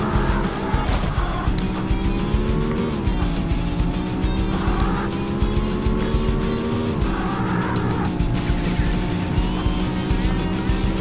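A race car in the Need for Speed video game revs loudly and close, its engine pitch climbing and dropping through repeated gear shifts, with tire squeals and skids over the drone.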